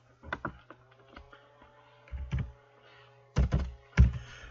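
Typing on a computer keyboard, with a few isolated key clicks and several louder thumping clusters of keystrokes, close and distinct, separated by short quiet gaps.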